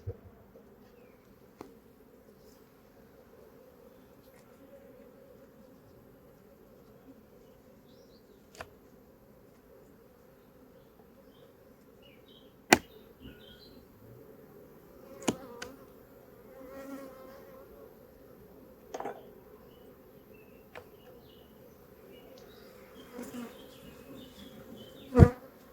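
Honeybees hum steadily at an apiary hive during honey extraction, a low, continuous drone with scattered sharp clicks and knocks throughout.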